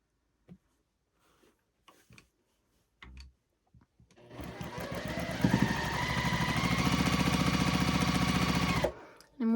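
A sewing machine chain pieces quilt pieces, with a few soft clicks and handling taps before it starts up and runs in a fast, steady rhythmic whir for several seconds, then stops abruptly.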